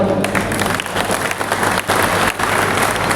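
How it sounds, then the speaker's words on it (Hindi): Crowd applause at a political rally, a dense steady wash of clapping that carries on loud and close with brief dips, a faint voice briefly audible underneath. "तालियां क्यों कम बजी?"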